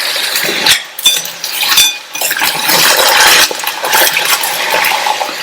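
Drained potato pieces hit hot oil in a pan, giving a loud, steady sizzle and spatter with a few clinks of a utensil against the pan.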